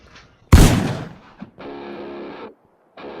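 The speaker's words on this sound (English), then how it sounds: "Steve, shoot this piece of shit" A single loud, sharp gunshot-like blast bursts out near the start and decays over about a second, followed by a brief knock and a steady distorted tone, with no talk.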